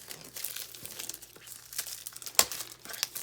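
A Paper Pumpkin craft kit package being opened up close, with a run of light crinkles and rustles of paper and plastic plus one sharper crackle near the end.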